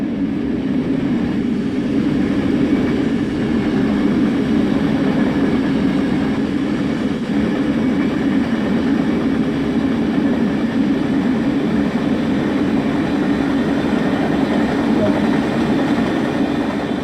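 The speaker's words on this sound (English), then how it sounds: "You are currently riding in a double-deck gallery car on a southbound service." Inside a double-deck gallery car on a southbound commuter service in Train Sim World 2, a steady low rumble of rolling wheels and car noise holds loud and unbroken throughout.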